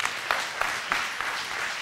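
Members of an Afrikaans church congregation clap their hands together in a loose, roughly regular rhythm, several distinct group claps standing out over a steady background patter in a reverberant room.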